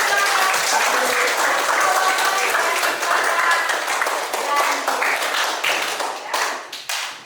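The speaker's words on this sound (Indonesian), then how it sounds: "Oke, tepuk tangan." A room of people applauds during an Indonesian-language class session, dense, loud clapping that holds steady and then tapers to scattered claps at the end.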